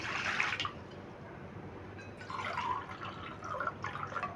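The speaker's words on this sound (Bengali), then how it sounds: "আমি দেড় বাটি মতন দেড় মগ মতন জল দিয়ে দিচ্ছি এখানে এক মগ দিলাম" Water poured from a mug into a pot, a short splashing pour at the start followed by quieter trickling and dripping, then another burst of pouring and splashing toward the end, close and alone.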